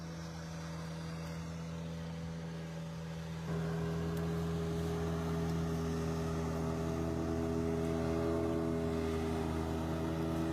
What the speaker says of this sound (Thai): เรือดำตัวนี้เครื่องยนต์ 40 แรงนะครับ